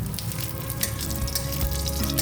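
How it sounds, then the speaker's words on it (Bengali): Five-spice seeds and dried chillies temper in hot mustard oil, a short burst of steady close sizzling and faint crackle with no voices. "তেলটি গরম হলে আঁচ কমিয়ে ওতে হাফ টিস্পুন 5 ফোড়ন ও 2টি শুকনো লঙ্কা ফোড়ন দিলাম।"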